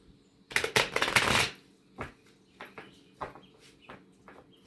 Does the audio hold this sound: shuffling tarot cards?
yes